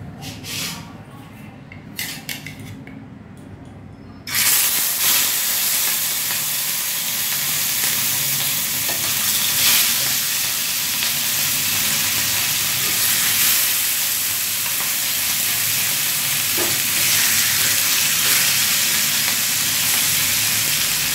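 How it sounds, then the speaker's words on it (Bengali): Fish sizzling loudly in hot oil in a home kitchen, a steady broadband hiss that starts abruptly after a few quiet seconds and continues unbroken at close range. "মাছ ভাজা হচ্ছে"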